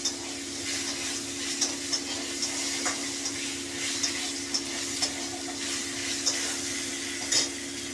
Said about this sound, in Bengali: আর এই দু টুকরো টমেটো আমি এই ফোড়নে দিয়ে দিলাম, একটু নেড়ে ছেড়ে